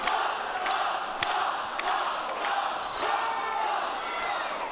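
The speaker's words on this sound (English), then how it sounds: "listen to the crowd with the chant for the Moms" A wrestling crowd chants in unison at a live indoor match, with rhythmic shouted bursts over a constant roar of arena noise and scattered claps.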